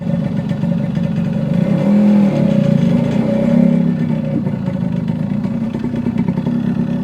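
A 1974 Yamaha RD60 two-stroke motorcycle engine runs close and loud, its buzzing note rising in a couple of brief revs before settling back to a steady idle, with no voices.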